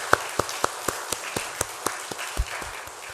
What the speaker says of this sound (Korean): 영광 받으신 하나님께 함께 크게 박수하겠습니다